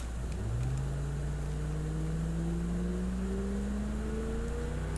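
The D series engine in BeamNG.drive is floored at full throttle, its drone climbing steadily in pitch over a constant low rumble, loud and close, with no voices.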